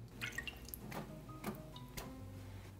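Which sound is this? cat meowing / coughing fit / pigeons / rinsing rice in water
rinsing rice in water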